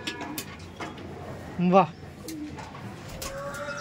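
A single clear pigeon coo rises briefly from a large home loft of over five hundred pigeons, heard close, with a short exclamation from a man and faint background rustle.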